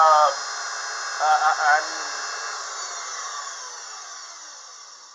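A Unimat SL1000 mini lathe turns 304 stainless steel with a steady high whine and hiss from the motor and cutting tool, close and continuous, with someone speaking briefly at the start.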